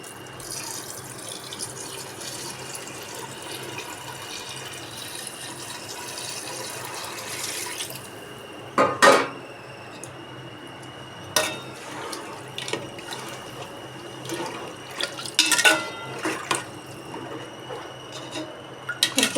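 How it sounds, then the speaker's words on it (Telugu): Water is poured into a pot of chicken biryani rice with a steady running flow, then a few louder splashes and clinks in the second half, all fairly close and with no talking. "నెక్స్ట్ ఇందులో బిర్యానీకి సరిపడా, రైస్కి సరిపడా వాటర్ తీసుకోవాలండి."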